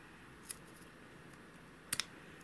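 Scissors snip excess string on a 2018 Hoyt Proforce bow: one faint click, then a quick double snip a moment later, close and quiet against a near-silent room.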